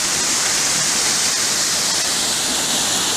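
A dry-season waterfall amid rubber plantations in Cambodia or Vietnam gives a steady, loud, broadband roar of falling water that holds unbroken and close throughout.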